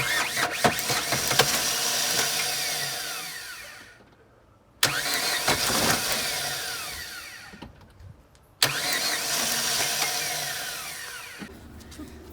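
A Daewoo Nexia being started that fails to run: three separate long cranking attempts, each a loud, steady rapid starter churn of about four seconds that fades and cuts off before the next begins.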